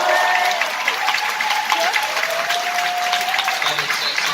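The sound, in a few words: cinema audience applauding at film premiere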